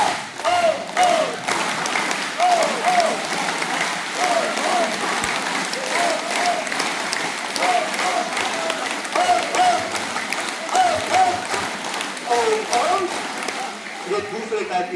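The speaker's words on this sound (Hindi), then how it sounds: "ओम ओम हा के नाम पे ताली वादन प्रक्रिया का आनंद लेंगे सारे बच्चे।" A group of school children claps hands in a regular repeating rhythm while chanting together in time. The loud, dense beat carries on steadily for the whole stretch.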